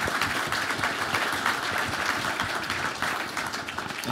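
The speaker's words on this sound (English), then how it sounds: "just give them a round of applause" A panel audience at an urban resilience forum applauds the panelists, dense, sustained clapping from many hands, steady and moderately loud throughout.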